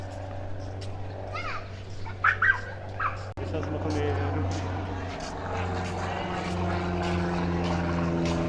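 A light aircraft drones overhead above a busy Mallorca beach, its steady propeller hum growing louder while people talk and children play nearby.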